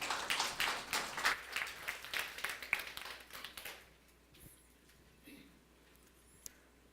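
A conference hall audience at the J-Connect Day 2018 keynote in Jeju claps briskly for nearly four seconds. The applause then dies away into near silence with a faint isolated tap.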